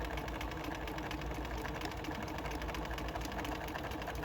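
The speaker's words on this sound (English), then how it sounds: "And I'm going to sew." Sewing machine running steadily as it stitches quilt binding, a continuous close mechanical whir with a fast even needle rhythm and no pauses.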